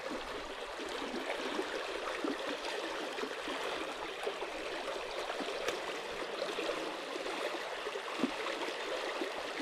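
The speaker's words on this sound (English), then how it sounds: "But a swift running water" Swift river rapids rush steadily and loudly, a dense continuous roar of churning water with no voices over it.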